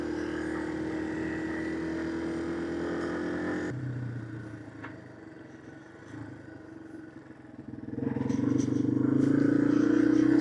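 A 1999 Yamaha TW200 motorcycle, worn and barely holding together, rides toward trails with a steady engine drone that dips quieter midway, then swells louder near the end.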